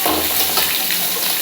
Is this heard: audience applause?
no